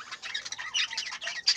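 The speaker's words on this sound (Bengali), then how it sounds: "পাখির উড়াউড়ি, পাখির চেঁচামেচি," Budgerigars and finches in a colony aviary chatter and squawk continuously, a dense overlapping mix of close, bright chirps and calls with sharper squawks rising above, no talking.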